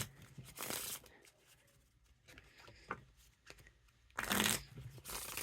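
Vouge Pro playing cards are riffle shuffled in two quick, close, fairly quiet bursts of rapid fluttering clicks, with soft handling noises and a few light taps between them.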